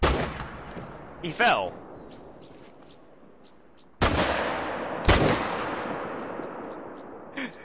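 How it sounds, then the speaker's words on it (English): Three loud gunshots fired at a bear in the hunting video game theHunter: Call of the Wild: one at the start, then two more a second apart later, each with a long rolling echo. A brief spoken remark and a short chirp fall between the shots. "Shoot him! I shot him!"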